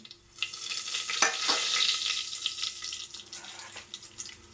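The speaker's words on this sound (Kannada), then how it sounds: "ಇವಾಗ ಇದಕ್ಕೆ ಚಕ್ಕೆ, ಲವಂಗ, ಪಲಾವ್ ಎಲೆ ಹಾಕ್ತಾಯಿದ್ದೀನಿ" Cinnamon, cloves and bay leaf frying in hot oil for egg biryani, a steady bright sizzle throughout with a few stirring clinks and scrapes close by.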